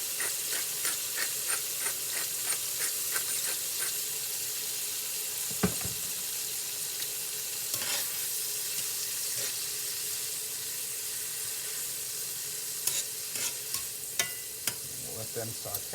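Green beans seasoned with salt and cracked pepper sautéing in a pan, a soft steady sizzle with rhythmic light taps of stirring early on and a few sharper clinks later.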